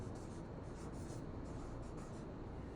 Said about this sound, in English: We're gonna write canyon here as our type of landform.